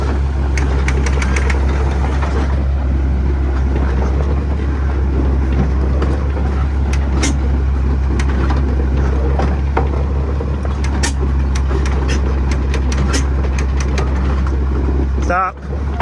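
A Caterpillar 2 ton tractor, over 50 years old with a freshly repaired carburetor, is dragged on a chain to tow-start it; a steady loud low drone of the towing engine runs throughout with clattering knocks, and a sharp thump comes near the end.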